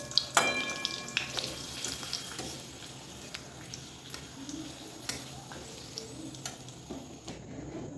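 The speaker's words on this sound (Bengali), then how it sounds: "পাপড় ভাজছি" Papad frying in hot oil in a pan at home, a soft continuous sizzle with scattered crackles and a few clinks of utensils, fairly quiet and without talk.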